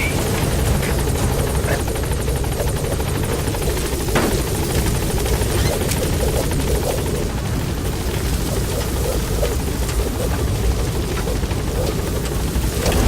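Support helicopter B-Quad in the video game Metal Gear Solid V, heard as a loud, steady rotor and engine roar coming in to land at the landing zone, sustained throughout.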